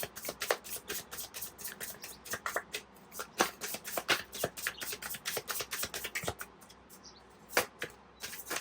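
Tarot cards being shuffled to draw a clarifier card, a quick run of crisp riffling flicks and taps in an uneven rhythm, close and moderately loud, with no talking.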